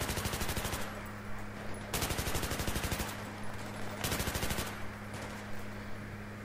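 Repeated bursts of automatic gunfire in the video game Battlefield 3, loud and close, with three sustained rattling volleys separated by short pauses and no talking over them.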